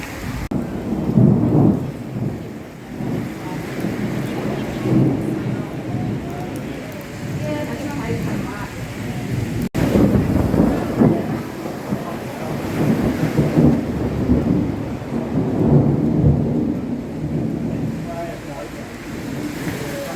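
A thunderstorm at Murwillumbah in the morning: heavy rain hisses steadily while deep rolls of thunder swell and fade repeatedly, fairly loud and close, with no one speaking over it.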